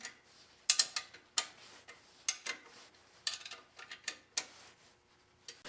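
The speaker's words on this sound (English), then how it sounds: "remove these bolts with the other hand" Sharp metallic clicks and ratcheting ticks from a wrench removing the 9/16 muffler bolts on a 2008 Harley Davidson Road Glide touring motorcycle, irregular short bursts spaced over a quiet background.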